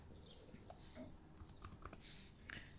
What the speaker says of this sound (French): je vais taper gaufres.